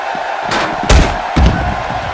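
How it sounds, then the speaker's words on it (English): Crowd noise from a wrestling fight night, with a steady roar broken by two sharp slams or bursts of cheering, loud and close throughout. "by the sound of this crowd, I think they're getting what they wanted"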